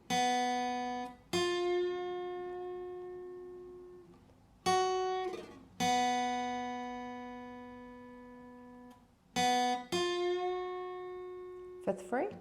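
An electric guitar plays the rhythm of a song with sharp strummed chords and long ringing sustains between them, up close and clean with no voices.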